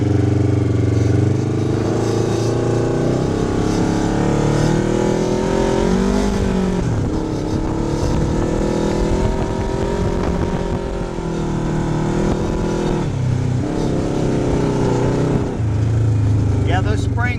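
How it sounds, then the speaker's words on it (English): A Polaris RZR XP 900 side-by-side with a Gibson exhaust idling and revving, a loud, close, deep engine rumble that rises and falls in several throttle blips over the full stretch. "I'm going to start this little jewel up. I'll let you hear it. Gibson Exhaust sounds really awesome."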